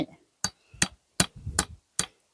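A wooden fence post being hammered outdoors gives five sharp, close blows at a steady rhythm, with faint voices between strikes.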